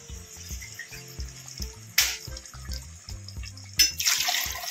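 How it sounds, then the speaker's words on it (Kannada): Water is poured into a pot of soaked rice in two short splashing bursts over a background of music, close and fairly loud. "ನಾನು ಒಂದು ಬಟ್ಲಿಗೆ 3 ಬಟ್ಲ ನೀರು ಹಾಕ್ತಾ ಇದ್ದೀನಿ"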